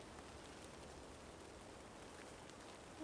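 Steady rain falling in the video game Sherlock Holmes: Nemesis, an even hiss of downpour with no breaks, quiet and continuous, without voices.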